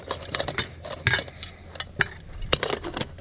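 A lightweight camping pot's lid is set on and packed with gear, giving a series of close metallic clinks and clatters, sharp and irregular, with no talk.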